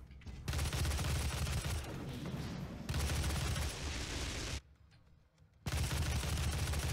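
Heavy chain gun fire roars in long continuous bursts during DOOM combat, with a brief break partway through before the shooting resumes.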